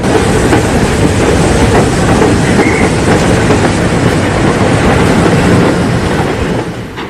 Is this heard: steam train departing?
yes